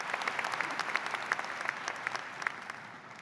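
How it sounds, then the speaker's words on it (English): A large audience at the Columbia Nursing 2024 graduation ceremony claps in dense, sustained applause that holds steady from start to finish, heard from a moderate distance. "Let's hear a round of applause for all of these amazing, accomplished students."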